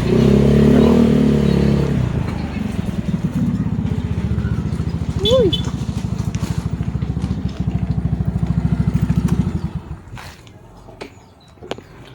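Motorcycles pull up at a house and park, one engine idling near with a fast steady putter before cutting off, followed by quieter handling noises and brief voices in the background.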